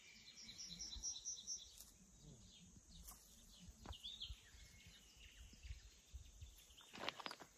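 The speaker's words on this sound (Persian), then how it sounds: "آواز بلبلا رو گوش کنید." Nightingales sing in the wild mountain countryside of Dashtijum, with faint scattered chirps and warbling phrases over quiet outdoor ambience.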